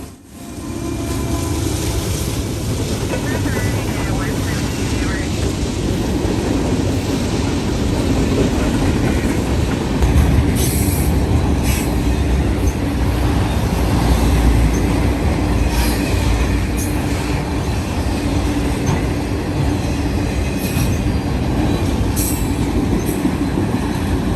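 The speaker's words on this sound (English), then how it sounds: "Here 178 is also running with a DPU of his own. Another AC44C6M Toaster rebuild." A Norfolk Southern freight train with an AC44C6M rebuild locomotive and a distributed power unit rolls past, producing a long, loud, steady rumble with faint wheel squeals and clicks above it.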